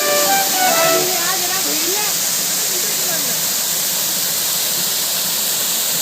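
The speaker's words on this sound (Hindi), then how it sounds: "ये रहा वो सबसे ऊपर ऊंचाई पे झरना जिसकी हम बात कर रहे थे।" Gorakhal waterfall in Harda, Madhya Pradesh, a steady broadband rush of falling water filling the whole clip, loud and continuous, with voices talking over it near the start.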